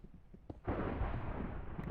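Thunder from a storm in Minecraft, a sudden heavy low rumbling boom that starts after a short quiet gap and keeps rolling loud to the end, no talking.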